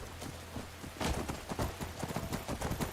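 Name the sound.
horse hooves clip-clopping in Skyrim video game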